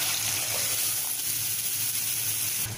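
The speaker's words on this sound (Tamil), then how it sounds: "இப்போ குழம்புக்கு தேவையான அளவு தண்ணி சேர்த்துடலாம்" Water poured into a pot of Tamil fenugreek kulambu, a steady hissing gush that runs without pause for almost three seconds, close and fairly loud, with no talking.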